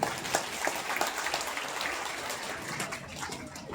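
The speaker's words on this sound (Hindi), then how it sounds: "इसके लिए आप अपने लिए तालियां बजाएं" An audience at a Hindu gathering in Loni claps in a soft, continuous patter with a few sharper claps standing out, heard from some distance.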